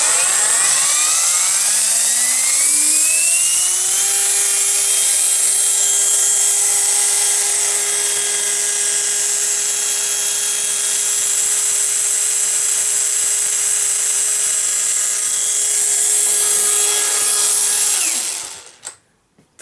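A cordless rotary engraver for tile work, the geared Pomogator rated at 15,000 rpm, spins up over the first few seconds into a steady, loud, high motor whine that holds until it cuts off at the end.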